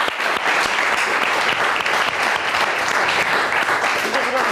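A television show audience applauds a singer as she is introduced, a dense, steady clapping that fills the whole stretch at close, even loudness.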